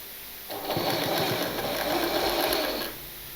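A sewing machine runs in one continuous burst of about two and a half seconds, stitching a curved seam on a newborn baby dress, loud and close with a steady whirring drone that starts and stops cleanly.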